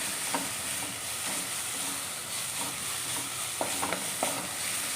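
Spinach and onion sautéing in a pan for spinach cutlets: an even, moderate sizzle with intermittent clicking spatula strokes against the pan.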